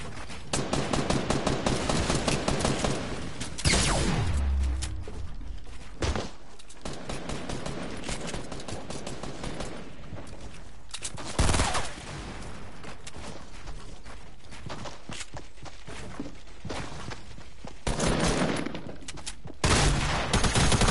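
Gunfire in a solo Fortnite-style building shooter match, with repeated bursts of shots and sharp impacts over a steady game-sound bed, fairly faint and without speech.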